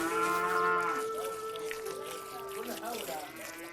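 Rural household cattle lowing, a long loud moo followed by more calls, with a voice speaking over them.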